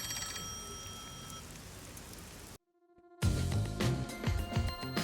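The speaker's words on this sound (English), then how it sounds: "Oh, the phone. It's a call from the WDO." A phone rings in the video game Master Detective Archives: Rain Code over a steady wash of rain, then the scene cuts to near silence before louder game music and sound effects come in.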